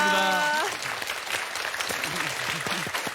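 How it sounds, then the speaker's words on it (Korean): A studio audience breaks into warm applause for lecturer Kim Mi-kyung after her talk on the new era of old age. The clapping starts right after a voice and continues as a steady crackle, with a voice speaking over it. "김미경 선생님께 다시 한번 박수 보내주시기 바랍니다"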